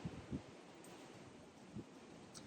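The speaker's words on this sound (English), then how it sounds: "It's so windy." Wind gusting outdoors around a balcony or patio, a steady broadband rush buffeting the microphone with a few low thumps of gusts, fairly quiet overall and with no one speaking.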